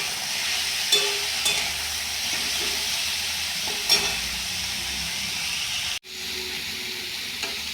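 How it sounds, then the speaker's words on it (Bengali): Mixed vegetables seasoned with salt and turmeric fry in a pan with a steady, close sizzle and hiss, a few light stirring knocks, and a short dip in the sound near the end. "চলো এটাকে চাপা দিয়ে ভালো করে ভেজে নিই"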